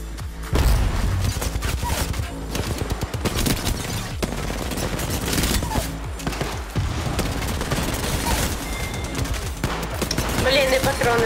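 Dense, loud gunfire from the video game Apex Legends, rapid automatic bursts and booming shots overlapping almost without pause, with faint voices under the shooting.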